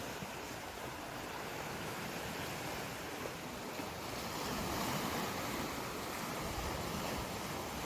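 Steady wash of Lake Superior water lapping and breaking against rocks, continuous and fairly distant, with a soft wind rumble underneath and no voices.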